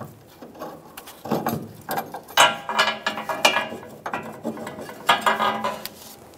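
Ratchet clicking while loosening the nut on a leaf spring shackle bolt of a 2014-2018 Chevrolet Silverado 1500: a close, irregular series of short metallic ratcheting bursts with brief pauses between strokes.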